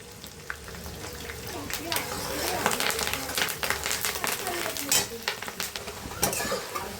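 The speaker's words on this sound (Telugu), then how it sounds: "వెల్లుల్లిపాయలు ఫ్రై అవుతున్నప్పుడు కరివేపాకుని యాడ్ చేసుకోవాలి." Garlic and curry leaves fry in a pan with a continuous close sizzle and frequent clinks and scrapes of a utensil stirring against the metal.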